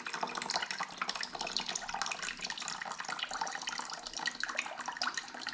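Coolant drains from a 2020 Yamaha YZ450F engine in a continuous close trickle and splatter of liquid, steady and fairly quiet throughout.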